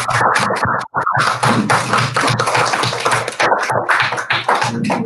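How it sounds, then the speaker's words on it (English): A primary school class gives a big round of applause in a celebration assembly, dense loud clapping that runs continuously with a brief pause near the start. "So should we all stand up together, Holly class, and then we can have a big clap up here?"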